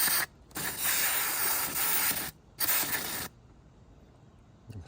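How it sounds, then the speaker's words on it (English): Aerosol cleaner hisses into the carburetor of a 2006 Honda Rancher 350 ATV in two close, loud bursts, a long spray and then a shorter one, with quiet in between and after. "we're gonna go ahead and spray this guy out"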